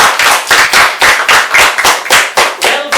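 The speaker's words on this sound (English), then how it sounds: "Everyone deserves a big round of applause." Classroom applause after a school debate, a loud, close group clapping in a steady, rhythmic unison beat of sharp claps, about four per second, with no talk.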